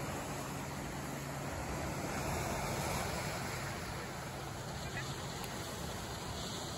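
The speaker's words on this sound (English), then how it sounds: "A couple of little waves rolling in." Small waves roll onto a Maui beach on a calm day, heard from a clifftop above as a steady, soft, distant wash of surf mixed with faint hiss.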